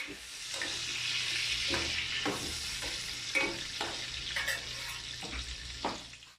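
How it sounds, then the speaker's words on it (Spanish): Shrimp frying in a pan for spaghetti with bacon, a steady close sizzle with repeated scraping stirs and light clinks throughout. "Y dejamos que se empiece a cocinar el camarón."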